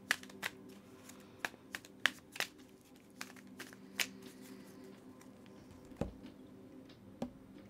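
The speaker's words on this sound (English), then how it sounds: "I'm going to go ahead and give the deck a good shuffle for you" A tarot deck being shuffled, with crisp riffles and soft flicks coming in uneven bursts in a quiet room.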